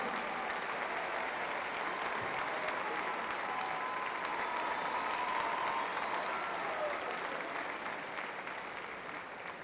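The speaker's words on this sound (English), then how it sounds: "How about a round of applause for our actor, Tyler Pledge." Sustained applause from a pep rally audience for an actor, steady clapping and crowd noise filling the room for the whole stretch with no break.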